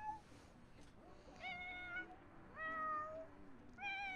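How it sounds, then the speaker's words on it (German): Simulated cat in the video game The Sims 4 meows while sitting on a toilet, three separate clear, fairly quiet, drawn-out meows at a steady pace, with a fourth starting at the end. "Jetzt singt die Katze auf Klo"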